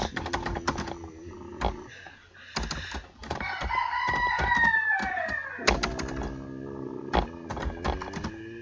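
Computer keyboard typing while working in Linux: bursts of crisp key clicks, with a rising, crowing-like tonal call sounding in the middle.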